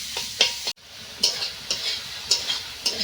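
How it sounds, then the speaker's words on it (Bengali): Peas and cabbage frying in a pan, a steady sizzle broken by several sharp stirring scrapes at an irregular rhythm, close and fairly quiet. "মটরশুঁটি আর হচ্ছে বাঁধাকপিও ভাজছি"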